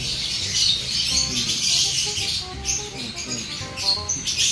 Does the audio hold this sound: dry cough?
no